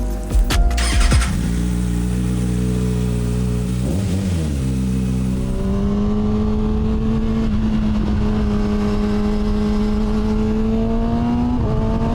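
A Kawasaki ZX6 sport motorcycle rides through a forest, its engine loud and close, first revving sharply, then holding a steady droning tone through shifts in pitch as it accelerates and cruises.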